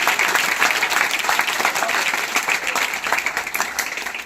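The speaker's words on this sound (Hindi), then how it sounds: "जोरदार ताली।" A classroom audience claps loudly and steadily for several seconds, a dense wash of applause with no clear voices over it.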